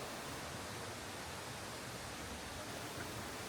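Steady, broadband rush of water from the three-tiered Yongchu waterfall in a volcanic gorge, constant and unbroken, heard from a moderate distance with no voices.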